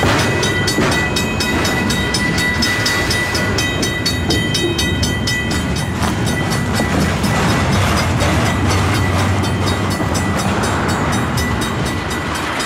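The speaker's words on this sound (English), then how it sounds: "The train that has no end." A long freight train rolls past close by, a loud steady rumble with rhythmic clacking wheels and metallic rattling that continues without a break.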